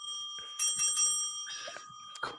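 A small hand bell, like a bicycle bell, rings in a few bright, sustained dings that start near and fairly loud and fade into quiet, with no voices heard.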